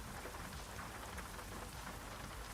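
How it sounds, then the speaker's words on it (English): Steady rain in the American Truck Simulator video game, a dense continuous hiss of drops drumming on surfaces, faint and even throughout with no voices. "It's raining."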